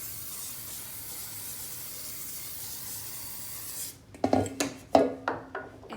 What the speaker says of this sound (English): So the first thing we're going to do is we are going to spray our pan